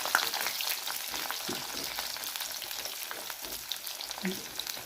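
Drumstick pieces frying in hot oil for a tomato curry, a soft, steady crackling sizzle with faint occasional pops, heard close but at low volume throughout.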